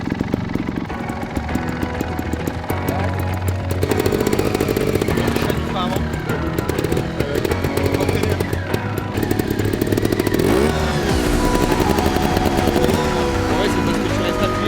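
A small trials pocket motorcycle engine runs close by off-road, a buzzy rattling drone that holds steady and shifts slightly in pitch under the throttle.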